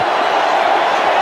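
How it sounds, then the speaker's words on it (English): A packed cricket stadium crowd roars and cheers continuously as everyone rises to their feet, a dense, loud wall of sustained crowd noise. "Everyone's on their feet. The crowd's going nuts here."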